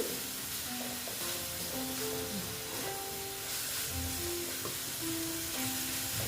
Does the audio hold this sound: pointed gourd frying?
yes